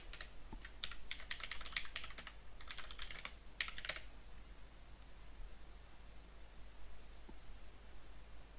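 Quick bursts of clicking keystrokes on a computer keyboard, rapid and somewhat faint over a soft hiss, last for about four seconds before the typing stops.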